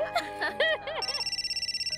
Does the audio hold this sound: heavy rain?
no